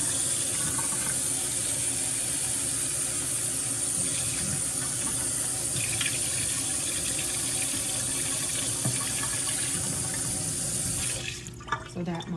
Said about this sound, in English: Now I'm going to add more water to the bowl, just enough to cover it.